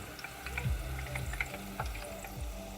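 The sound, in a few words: homemade potato fries frying in oil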